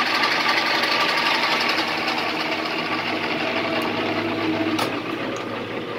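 A Rockwell 14-inch lathe running with its headstock oil system working, giving a steady, noisy mechanical whir with a fast rattling texture, close and continuous, with a brief clank near the end.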